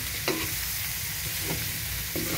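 Pancit gisado noodles with celery sizzle steadily in a pan while a utensil stirs them in three distinct scraping strokes, close and alone.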